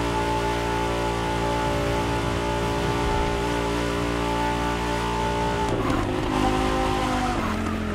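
BMW Z4 M40i roadster engine in The Crew Motorfest, a steady sustained drone with tire squeal, shifting tone near the end as the car changes pace.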